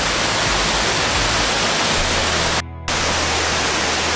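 Tall waterfall roaring as a steady, dense broadband rush close by, continuous throughout apart from a brief dropout near the end.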